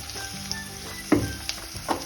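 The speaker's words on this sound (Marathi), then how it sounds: "आणि आपण आता टोमॅटो आणि कांदा अगदी व्यवस्थित भाजून घ्यायचा आहे।" Tomato and onion fry in a pan after a cumin and mustard seed tempering, giving a soft, steady sizzle with a few brief stirring clatters, heard close and fairly quiet.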